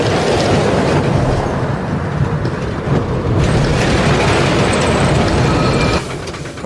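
A car on a large LEGO roller coaster runs fast along a track built from floor to ceiling, giving a loud, steady rattling roar with clattering wheels that continues throughout and eases off near the end.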